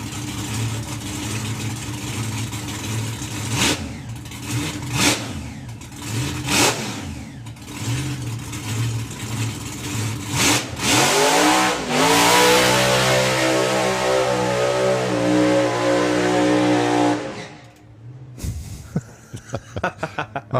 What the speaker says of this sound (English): I think that's actually one of the nicest burnouts I've seen him do.